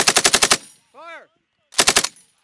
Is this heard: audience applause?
no